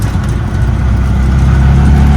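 An auto rickshaw engine runs loud and close after restarting, a rough, throbbing low idle that holds steady for a couple of seconds.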